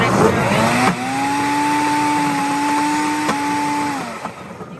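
A peanut butter machine grinds peanuts, a steady motor whine with a flat tonal hum holding for about three seconds before spinning down, loud and close.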